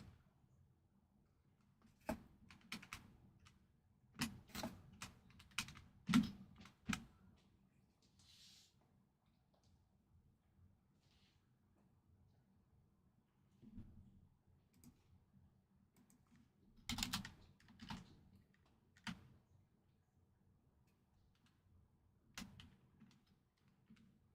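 Computer keyboard keys clatter in scattered bursts of quick clicks, moderately close, with pauses between typing runs and a low room hum underneath during a sports card box break.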